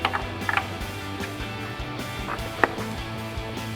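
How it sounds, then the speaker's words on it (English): A main wiring connector snaps into an LED DRL chrome-housing headlight on a 1999-2004 Ford Mustang, giving one sharp, close click midway through faint plastic handling clatter. "we'll swing our headlight over, plug our main connector in for our headlight."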